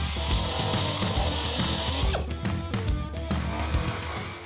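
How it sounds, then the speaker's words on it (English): A power-driven wire brush scrubs leftover seam sealer and glue out of the corners of a Honda Civic hatchback's stripped floor pan, a loud continuous harsh whirring grind with a few short breaks in contact. "we can take our wire brush and clear up any seam sealer or glue that was left in the corners"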